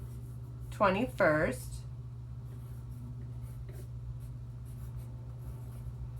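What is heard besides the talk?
writing the date on paper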